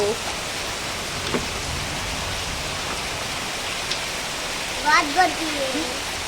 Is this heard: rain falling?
yes